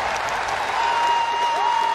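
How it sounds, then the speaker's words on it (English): Crowd applauding at the close of a long badminton rally in a women's singles gold medal match at the Birmingham 2022 Commonwealth Games, steady and sustained clapping that fills the arena without a break. "And you can hear what the crowd think."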